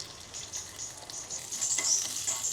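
Minced shallots stir-frying in hot oil in a pan, a steady close sizzle with soft scraping stirs that swell slightly toward the end, no voices.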